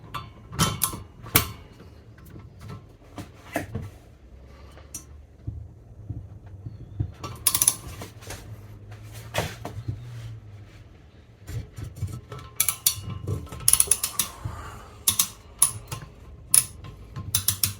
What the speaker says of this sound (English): With the use of the breaker bar, we go anti-clockwise direction.